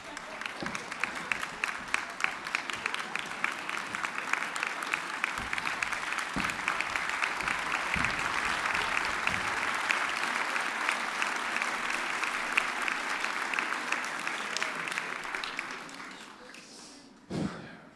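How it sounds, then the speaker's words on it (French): Sustained audience applause fills a French television game-show studio after a group performance, dense clapping holding steady for about fifteen seconds before fading, with a thump near the end. "On les raccompagne en coulisses sous vos applaudissements."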